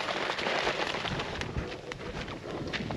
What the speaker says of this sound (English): So I'm gonna go in first with my chicken broth.